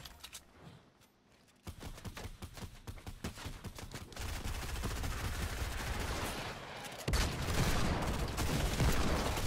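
Rapid gunfire bursts from Fortnite gameplay, dense and loud, sustained nearly throughout with a brief quieter lull near the start, no talk.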